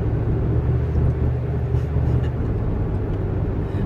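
A car's steady low road rumble fills the cabin from inside on a commute to work, continuous and close with no clear talking over it.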